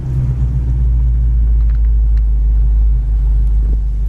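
A 1967 Ford Mustang convertible's engine while driving, a loud, steady low rumble with a slight rise as the car kicks down from third to second, heard close and continuous without talk.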